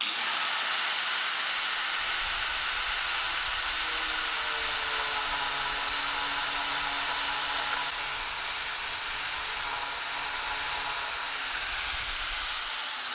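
A power tool spins a CD pressed into wood clamped in place, a steady loud high-pitched whine and hiss with a low rumble joining partway through.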